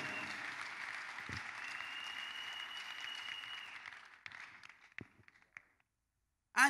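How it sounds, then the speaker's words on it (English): Applause from a church testimony service audience, a sustained wash of clapping that fades out, leaving a few scattered claps and knocks before a brief louder burst at the very end. "I think you can clap better than that if you are clapping for the glory of God."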